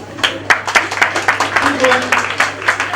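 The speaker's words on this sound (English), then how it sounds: "Let's give a big round of applause to our moderator." Scattered applause for a moderator at a Ugandan climate action gathering, uneven claps rising and falling at moderate distance while a voice keeps talking over them.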